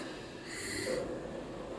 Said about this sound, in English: sniff this and tell me what it smells like.